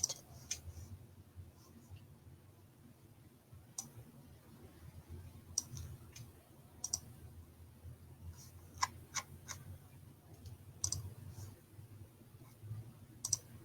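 Sparse, faint mouse clicks at a computer, single sharp ticks scattered irregularly over a quiet low hum, with a few quick pairs and no talking.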